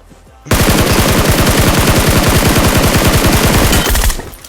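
Sustained automatic rifle fire, an AKM in the video game PUBG Mobile, gives a loud close burst of rapid evenly spaced shots lasting several seconds and then stopping abruptly.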